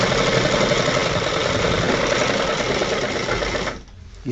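Sewing machine running steadily while stitching the double front placket strip of a shirt, a dense continuous whir with rapid needle rhythm, loud and close, stopping abruptly near the end.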